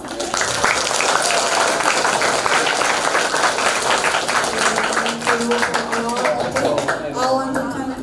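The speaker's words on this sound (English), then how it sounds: "Give applause." Audience applause at a teacher sharing session, steady crowd clapping throughout, loud and close, with a voice speaking over it near the end.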